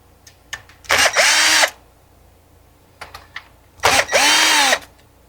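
A power drill backs screws out of a plate on a vintage Pioneer SX-737 stereo receiver, two separate close whirring bursts with short clicks and pauses around them.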